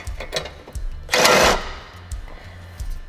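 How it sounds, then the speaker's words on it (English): A power driver runs self-tapping screws into the frame of a Polaris RZR Pro XP while an inner fender guard is fitted. A sharp burst of high whirring lasts about half a second between softer mechanical knocks and clicks, close by. "we're going to run our self-tappers into the frame."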